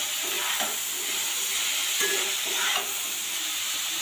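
Pasta with capsicum is stirred in a hot pan, giving a steady sizzle and hiss with soft scraping strokes throughout, close and continuous, with no talking.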